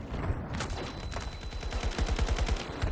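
Rapid automatic gunfire in Battlefield 2042, a fast rattling burst of evenly spaced shots that grows denser and punchier toward the end amid a loud battlefield din.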